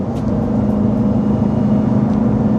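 A Jeep Trackhawk's supercharger whines steadily as it accelerates, a sustained tonal drone riding over the engine and road noise, loud and close, with no talk.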